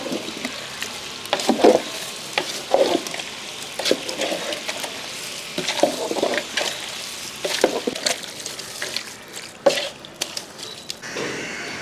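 Indian gooseberry (nellikka) pickle mixture stirred in a pan, giving wet, squishy scraping strokes over a soft sizzle, heard close and without talk for about twelve seconds.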